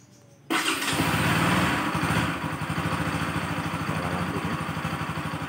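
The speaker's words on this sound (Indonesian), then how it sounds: "Ini kita nyalain." A Bajaj Pulsar 200NS motorcycle engine cranks and catches abruptly, revving briefly before settling into a steady, close, throbbing idle with a regular pulsing beat.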